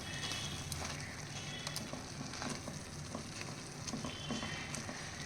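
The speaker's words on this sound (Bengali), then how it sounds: "এবার হাই ফ্লেমে আমি নাড়াচাড়া করবো যতক্ষণ পর্যন্ত না এটা শুকিয়ে ভাজা ভাজা হয়ে যাচ্ছে" Chopped ivy gourd stir-fries in a pan over high flame, a continuous faint sizzle with scattered scraping clicks of a spatula stirring, no talking.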